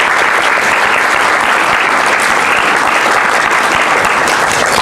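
An audience applauds speaker Juliet Shen with loud, steady clapping that fills the whole stretch without a break and never fades.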